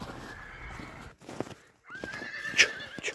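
A Kyrgyz horse being walked gives a close, loud neigh near the end, with soft hoof clops and shuffling before it and a brief quiet gap in the middle.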